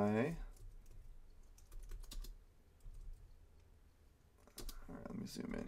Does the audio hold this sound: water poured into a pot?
no